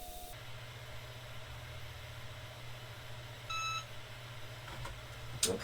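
A heat press timer gives one short electronic beep, loud and clear over a steady low machine hum, while glitter heat-transfer vinyl is pressed onto a shirt at 330 degrees.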